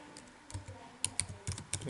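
Keys tapped on a computer keyboard while working in MATLAB, a quiet, uneven burst of light clicks growing denser toward the end, close by with no talk.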